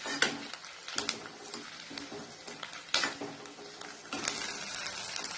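Dried red chillies, five or six of them, frying in a pan for garlic chutney, with steady stirring scrapes and soft clinks of a spoon against the pan over a low sizzle, close and alone.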